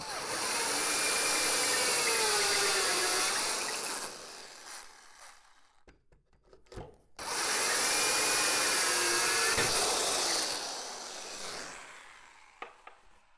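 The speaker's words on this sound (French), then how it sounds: "Avec la perceuse cloche, on prévoit 3 trous pour nos rouleaux" A hole saw on a drill cuts holes in wood in two long, loud grinding bursts separated by a short pause, each tapering off as the cut finishes, followed by a few light knocks.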